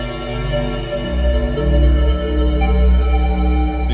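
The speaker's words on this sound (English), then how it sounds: "The time of the reverb is being modulated." Sustained synth chords drenched in stereo reverb whose decay time swells and shrinks in opposite ways on left and right channels, loud, dense and continuous with no talking.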